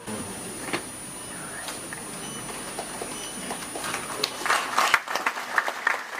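Scattered applause from an audience at a formal ceremony before a lamp-lighting, moderate and uneven clapping that swells into sharper, closer claps near the end.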